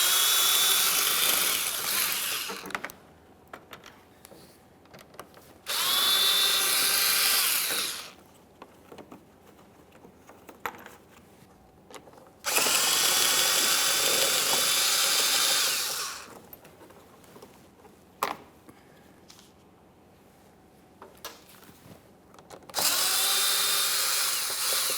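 Power tool driving out 7mm-headed mounting bolts under a 2017-2024 GMC Acadia while removing the windshield washer reservoir, four loud high-pitched whirring bursts of a few seconds each, separated by quiet gaps with faint clicks and handling noise.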